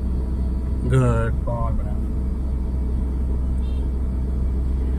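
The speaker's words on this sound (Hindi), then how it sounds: "अभी हम लोग सेकेंड गियर में कार को चला रहे हैं" A car is driven in second gear during a driving lesson in Lucknow. Its steady low engine rumble runs throughout the cabin, under brief spoken remarks.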